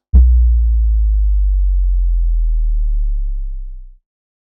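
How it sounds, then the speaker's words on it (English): A deep sine-tone bass drop: a sudden low hum that slowly sinks in pitch for about four seconds, then cuts off into silence. "That's how you get a bass drop out of a signal generator."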